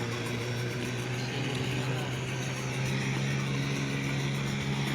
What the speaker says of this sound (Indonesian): Yo, mesin nyala.